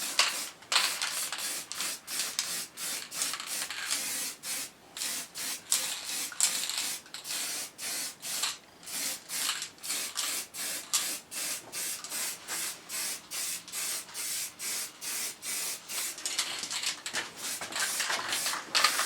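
Guide coat paint sprayed in repeated short bursts onto a Triumph bash plate in a garage, a steady hiss pulsing on and off at a regular rhythm, close and fairly loud throughout.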